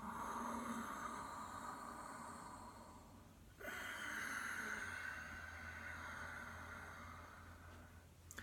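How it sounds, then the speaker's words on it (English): Steady, hissing breath with a soft whistling, ocean-like quality, sustained through the whole stretch with a brief pause midway, no talking. "Sighing, whistling, silky breath. Nearly sort of Darth Vader breath."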